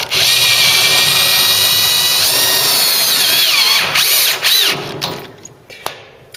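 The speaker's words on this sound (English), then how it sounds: "to get this seat right, we're going to tech screw down the cross member." A power driver runs a tek screw into the seat cross member of a Ford Cortina Mk3 under restoration, giving a loud, sustained close whine that rises in pitch and then stops with a few trailing clicks.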